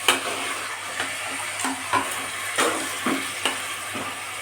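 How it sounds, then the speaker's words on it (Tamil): Chicken being stirred and fried in a pan for a chicken gravy, with a steady sizzle broken by repeated scraping stir strokes about every half second, close and alone without talk. "நல்ல நம்ம சிக்கனை பரட்டி விடுறதுல இதுவே பாதி வெந்துடும் பாருங்கள்."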